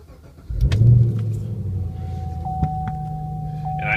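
A manual-transmission 2010-2014 Chevrolet Camaro 2SS turns over and fires up with the key, a sudden loud engine catch settling into a steady close idle rumble, with no talking.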